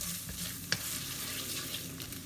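Seasonings are stir-fried in a pan for giant river prawns, with a soft, faint sizzle throughout and a single sharp clink of a utensil against the pan.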